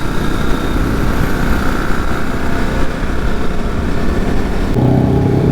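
Loud engine drone from a group of motorcycles riding together, led by a Yamaha R15 with a modified, very loud aftermarket exhaust; steady, continuous roar throughout with no talking.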